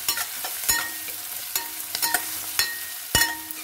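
Chopped onions frying in oil for an arhar dal tadka, a steady sizzle broken by several sharp scraping stirs of a spoon against the pan, close and fairly loud, with no voices.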